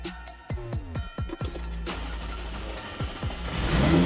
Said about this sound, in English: then you start the car this way.